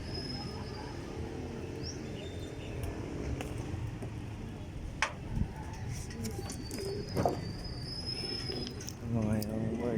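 A pigeon coos at a loft, soft repeated coo calls heard among other bird calls, faint passing traffic and a person talking nearby.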